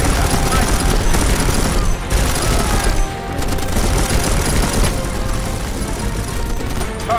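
Sustained machine gun fire in the video game Conflict: Denied Ops, a dense, loud, continuous rattle of rapid bursts with brief dips, filling the whole stretch without pause.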